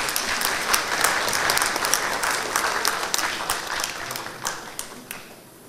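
Audience applause at a business association's 30th-anniversary award ceremony in Galați, a dense, steady clapping from a crowd that continues without talk.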